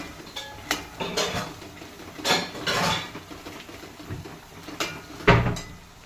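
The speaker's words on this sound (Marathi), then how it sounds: "तर आता आपण हा एसूर मसालासुद्धा यातच असा छान परतवून घ्यायचा आहे." A spoon scrapes and clinks against a pot as spice masala is stirred and roasted for a village-style chicken curry, irregular metallic knocks and scrapes up close.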